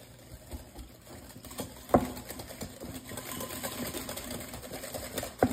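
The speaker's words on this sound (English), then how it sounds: "we're going to whisk this together." Eggs being whisked by hand with white and brown sugar in a bowl, a steady rapid scraping and tapping patter of the whisk at close range, quiet with a couple of sharper clinks, no talking.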